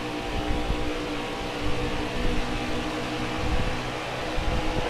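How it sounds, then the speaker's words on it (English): An air conditioner and an electric fan run together indoors, a steady loud whirring hum with faint rhythmic fluttering, continuous and unbroken, with no voices. "So if you hear the air conditioner and the fan, I do apologize."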